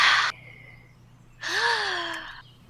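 A person's breathing heard close, a sharp breath followed after a pause by a longer breathy exhale with a faint voiced tone.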